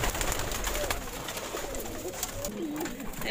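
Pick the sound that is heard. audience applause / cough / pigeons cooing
pigeons cooing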